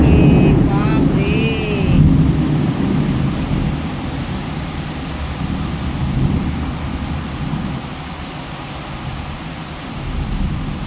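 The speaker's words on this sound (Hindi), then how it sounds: "देखिए आवाज़ आ रही होगी बादल गरजने का" Heavy rain pours steadily with a deep rumble of thunder rolling underneath, plus a few brief higher tones near the start.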